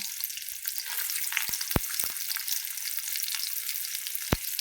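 Chopped onion sizzles steadily in hot oil in a pan, a continuous bright hiss broken by a few sharp clicks of a utensil against the pan.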